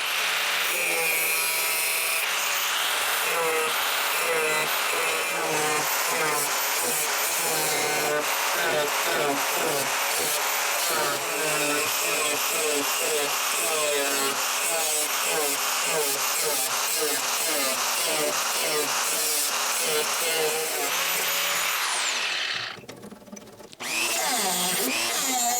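A power tool cuts through the old steel dash flange of a Triumph TR4, a rough, continuous grinding and sawing that runs loud for over twenty seconds before briefly dropping away near the end.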